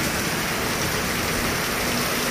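Heavy rain pours steadily near a farm, a dense, continuous hiss of drops striking surfaces close by with no break or voice.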